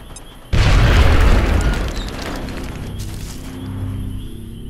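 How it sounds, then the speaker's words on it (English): A sudden loud boom detonates enemy cover in XCOM: Enemy Within, followed by a long rumbling decay and scattered debris settling. "I can detonate their cover and kill him."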